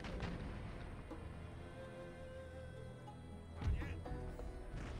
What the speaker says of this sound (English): My howitzers are firing round shots.